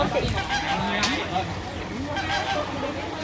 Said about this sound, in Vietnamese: Chim hồng hạt đấy.